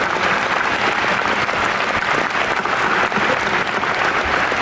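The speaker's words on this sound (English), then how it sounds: "Would everybody give a big round of applause to our UTSA faculty colleagues who are here?" A large crowd in the stands at a university commencement applauds, a dense, steady roar of clapping that holds loud and even throughout.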